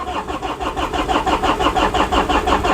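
A diesel Land Rover engine cranks over and over in a steady rhythmic churn without catching, loud and close for the whole stretch, with no one talking.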